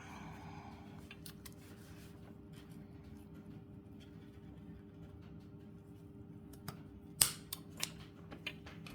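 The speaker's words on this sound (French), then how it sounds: "Il y a évidemment les petits ciseaux pour les fils et il y a les gros pour la dentelle ou les tissus." Scissors snip through embroidery thread, lace or fabric while beaded Christmas hoop embroidery is being made, soft rustling that gives way to a few sharp, close cuts near the end, with no talking.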